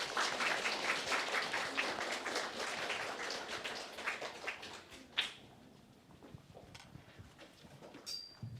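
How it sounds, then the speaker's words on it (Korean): A congregation at a children's choir worship service claps to welcome a pastor. The applause is moderately loud and sustained, then thins out after about five seconds into scattered claps and quiet room noise. "우리 큰 박수로 함께 맞이해 주겠습니다"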